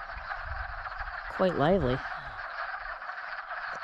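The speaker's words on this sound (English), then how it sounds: "as you can hear, the frogs made their way down to the pond from yesterday" Wood frogs call in a pond as a dense, steady chorus of clucking croaks, with one louder, nearer call rising briefly; a person speaks over the chorus.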